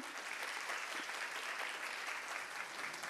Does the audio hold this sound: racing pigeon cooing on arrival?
no